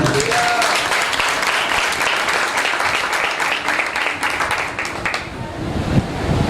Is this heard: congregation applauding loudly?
yes